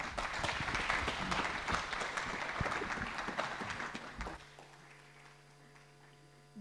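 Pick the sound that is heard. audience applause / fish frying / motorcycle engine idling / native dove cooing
audience applause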